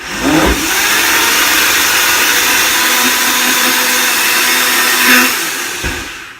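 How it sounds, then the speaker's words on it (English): A Blendtec blender makes a smoothie, running loud and steady for several seconds, its motor droning continuously before briefly surging and stopping. "Blend techs are a tricky blender."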